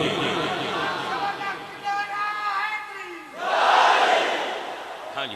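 A large crowd at a religious gathering shouting slogans in unison, a chanted call swelling into a loud massed response that rises sharply in the second half, with a voice leading over it.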